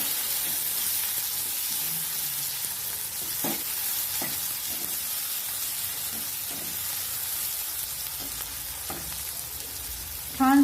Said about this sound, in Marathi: छान सोनेरी कलर येईस्तोवर परतायचे आपल्याला।